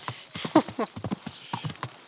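Rapid clip-clop of horse hooves at a gallop in the video game Kingdom Come, steady and close, with a brief whinny-like burst partway through.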